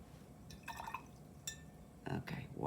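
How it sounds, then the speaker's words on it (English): Paintbrush swished and rinsed in a cup of water after painting a blue butterfly, giving a few soft dripping and sloshing splashes in short bursts across a quiet room. "wash my brush out"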